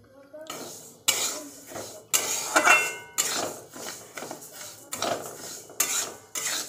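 Lentils are dry-roasted and stirred in a dry wok, giving about seven rhythmic metallic scraping strokes, close and moderately loud, with a voice occasionally speaking between them.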